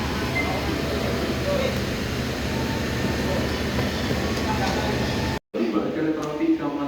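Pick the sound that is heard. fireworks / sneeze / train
train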